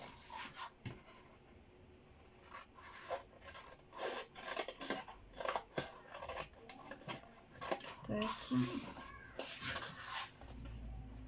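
Scissors cutting paper for a handmade mini album, a series of close, crisp snips and rustles repeating in uneven bursts, with light paper handling between cuts.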